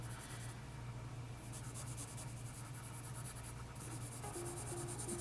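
Thin pencil cross-hatching on paper, a steady close scratchy rubbing that runs continuously with brief shifts in stroke texture, no voice over it.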